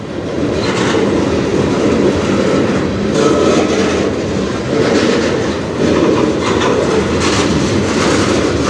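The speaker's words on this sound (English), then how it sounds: "He'll be going down the hill now towards the tunnel to go under the river." A freight train rolls slowly downhill toward a tunnel under a river on the Strathroy line, a loud, continuous rumble of wagons with a rhythmic clickety-clack of wheels over rail joints, heard close by and alone.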